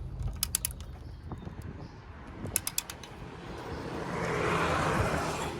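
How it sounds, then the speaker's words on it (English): A torque wrench set to 58 tightens the top mount nut on a Vauxhall Corsa front shock absorber, giving a few sharp ratcheting clicks and metallic creaks in two brief bursts, followed by a rising hiss of released pressure. "I've got my torque wrench connected to the top of this, as you can see"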